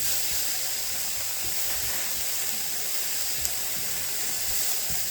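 Chicken fries over high heat in a hot griddle pan, giving a steady, loud sizzle and hiss that runs without a break and without talk.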